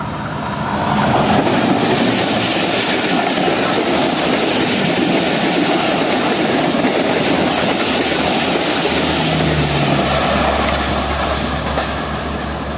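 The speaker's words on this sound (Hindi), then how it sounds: "ये अभी अचानक से निकलेगी पीछे से ट्रेन" The Subuk Raftar rail car, 104 Down from Rawalpindi, passes at close range in Pakistan, a loud sustained roar with rumbling wheels on the track and a low engine drone building near the end.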